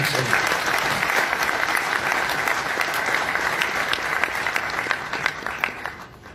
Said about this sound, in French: Mesdames et messieurs, nous pouvons l'acclamer,